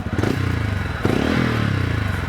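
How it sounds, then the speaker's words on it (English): A TVS Ronin motorcycle engine idles with a deep, bassy exhaust burble, pulsing steadily and close by, with a brief blip partway through. "there is a silent starter with a very bassy exhaust note"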